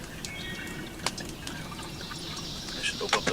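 Water trickles and pours from the spout of a camping water cooler outdoors, a thin, uneven stream with small splashes and drips, fairly close and modest in volume.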